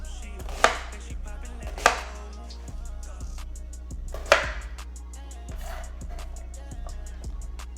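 A knife chops vegetables for sofrito on a cutting board in a slow, uneven rhythm, with a few sharper, louder strikes among lighter taps, close and without talk.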